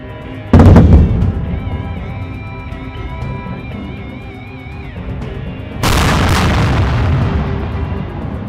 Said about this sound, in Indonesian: Menembakkan 5 peluru artileri berat ke sejumlah lokasi di Provinsi Pursat